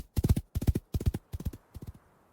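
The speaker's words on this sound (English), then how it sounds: "Come on, horsey, let's go." Horse hooves clip-clop in five quick clusters of sharp hollow knocks, starting close and loud, then fading as the horse moves away.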